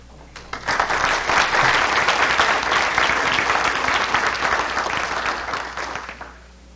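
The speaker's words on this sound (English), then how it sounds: "A round of applause again for that committee and all the students for doing that." A crowd at a city council meeting in Jefferson City claps loudly and steadily for several seconds, the applause swelling quickly, holding, then tapering off near the end.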